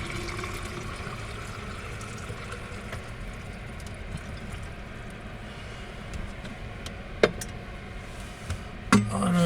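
Boiling water poured carefully from a pot into a camping shower container outdoors; a continuous rushing pour fills the background at steady volume, with a couple of sharp clinks near the end.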